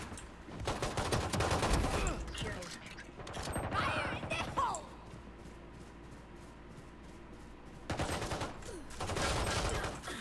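Rapid bursts of automatic gunfire crackle loudly in a Valorant match, with long firing stretches at the start and near the end and quieter mechanical sounds in between.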